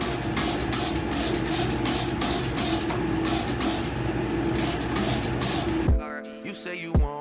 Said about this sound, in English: You just spray your hair.